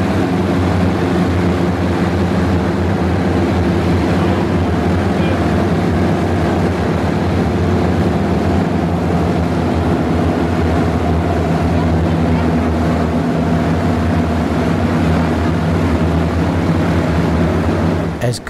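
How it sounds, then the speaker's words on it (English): Avro Shackleton piston engines and propellers running on the ground during an engine run, a loud, steady, droning roar with a deep throbbing hum that holds constant throughout before dropping off at the very end. "Watch the guy with a camo dress having to fight the force of the already throttled back propellers."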